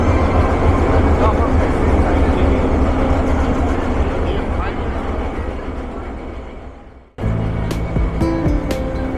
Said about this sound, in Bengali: ট্রেন দিয়ে দিয়েছে 14 নম্বর প্ল্যাটফর্মে, কাঞ্চনকন্যা এক্সপ্রেস